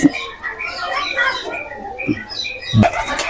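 Shahjahanpuri high-flyer pigeons coo and chirp in short repeated calls, close and moderately loud, with a few brief knocks or wing sounds.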